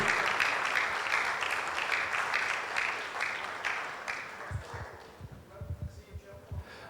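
Applause from a church congregation at an anniversary service, moderately loud and steady for about four seconds, then thinning out as a voice starts speaking.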